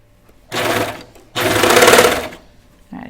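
Close sewing machine stitching a knit t-shirt seam in two bursts, a short run then a longer one, each a dense, even whir with a pause between and a brief start of a third at the end.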